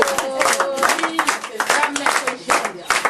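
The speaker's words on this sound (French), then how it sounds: "on applaudit un peu" People clap together at an artisanal women's bakery project in Dschang, in loud, fairly rhythmic bursts close by, mixed with voices talking or singing over the claps.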